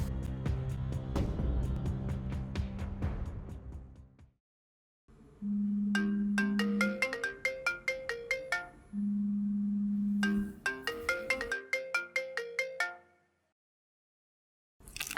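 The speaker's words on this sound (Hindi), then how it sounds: "बाबा, मैं सोहा को फोन करता हूँ" An outgoing telephone call rings back with two long, steady buzzing tones separated by a pause, set against background music with no talking.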